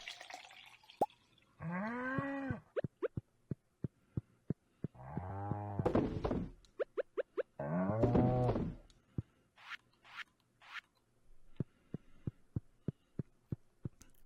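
Cows mooing in the video game Stardew Valley, three long drawn-out moos with gaps between them, set among scattered soft clicks and plops from the game.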